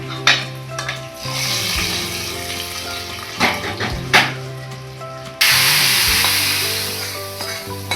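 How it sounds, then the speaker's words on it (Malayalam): A tempering of onion and mustard seeds is poured into a green gram curry. Soft sizzling and stirring clatter build to a sudden loud, hissing sizzle that keeps going, close and without speech. "ഇപ്പോൾ ഉള്ളിയും കടുകൊക്കെ മൂത്ത് വന്നിട്ടുണ്ട്. നമുക്കിത് ഈ കറിയിലേക്ക് ചേർത്ത് കൊടുക്കാം."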